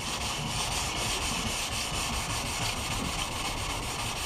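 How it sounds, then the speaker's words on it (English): Resin on a surfboard ding repair gets wet-sanded by hand, a continuous steady rubbing and scraping that stays close and even throughout. "just a bit of wet rub now and smooth it all out"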